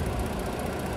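The engine of a 2017 Ford Police Interceptor Utility with a 3.7 idling with the hood open, a steady close low rumble with no talk.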